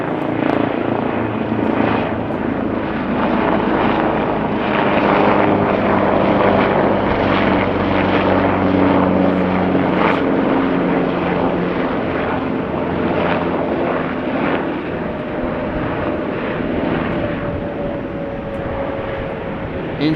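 A Coast Guard rescue aircraft flies over Amsterdam Schiphol Airport, its engine drone a steady, loud rumble with a faint tonal whine that holds for the whole stretch.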